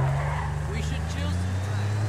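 Car from the GTA 5 Hipster and 4th of July update, with a loose-handling ride and no roll bar, drives with a steady, loud engine drone and faint tire noise throughout, while a person talks over it.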